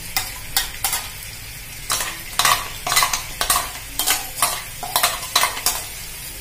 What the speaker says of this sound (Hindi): घी गर्म हो चुका है, अभी मैं डाल देती हूँ इसमें चटनी।